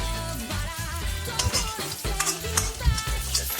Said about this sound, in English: Here I'm frying them directly in the oil.